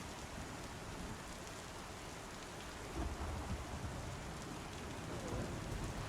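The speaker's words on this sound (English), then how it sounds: "You can kind of see the rain hitting the puddle now on this one." Rain falling in the video game Star Citizen, a steady, dense hiss of drops hitting surfaces and puddles, even and continuous with a slight swell partway through.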